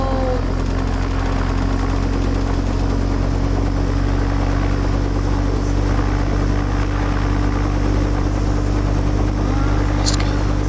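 A helicopter engine in the video game Warfare Tycoon, a steady loud droning hum that holds unchanged for about ten seconds, with faint talk passing over it.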